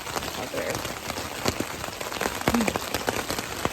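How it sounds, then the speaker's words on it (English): Heavy rain pours onto a tent on the Appalachian Trail, a close, continuous patter with sharper individual drops striking the fabric at irregular intervals. "It is pouring rain out there."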